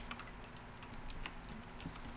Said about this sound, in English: Sorry, my keyboard's probably loud.